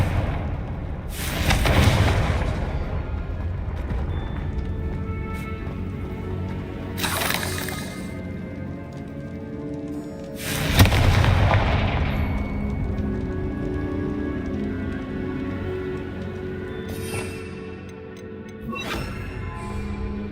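Fiery explosion spells cast in the video game Hogwarts Legacy, with a loud booming burst near 2 s and again near 11 s plus a sharper crack around 7 s, over steady game ambience.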